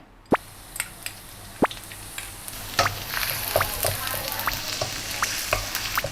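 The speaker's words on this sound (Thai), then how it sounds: "เราจะ เจียวกระเทียมให้มันเป็นสีเหลืองสวย" Garlic fries in a hot pan toward a golden yellow, a bright continuous sizzle that swells after a few sharp spatula clicks, close and steady with no talking.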